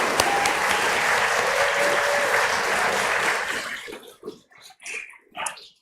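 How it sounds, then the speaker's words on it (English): A worship congregation at a Sunday service gives a full round of applause, loud and sustained for several seconds before tapering into scattered claps and a speaking voice. "let's give one more round of applause to everybody who made this day so wonderful"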